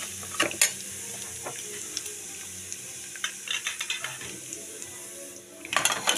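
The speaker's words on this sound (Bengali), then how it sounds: "আমি একটু সবজিগুলো দিয়ে একটু ভেজে নেব।" Vegetables frying in a pan with moong dal and broken wheat for a khichuri, a soft steady sizzle broken by stirring scrapes and light clinks of a spoon against the pan.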